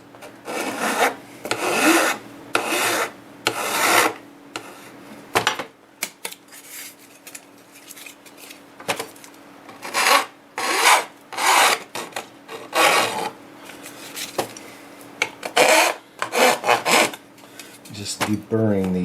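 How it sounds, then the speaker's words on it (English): An aggressive metal file rasps a workpiece down to a scribed line in repeated bursts of close, loud back-and-forth strokes, with short pauses between runs. "Fortunately, this is an extremely aggressive file."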